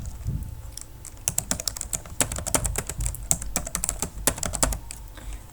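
Someone types a password on a computer keyboard while registering a user in a Django web app, a close, uneven run of crisp key clicks that speeds up in the middle and finishes with a few firmer taps.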